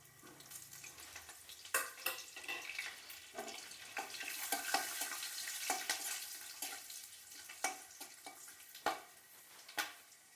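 Bay leaves, dried red chillies, whole garam masala and cumin seeds frying in a little oil for a spicy Bengali chicken leg curry, a steady hiss and crackle with sharp spoon clinks and stirring scrapes at intervals.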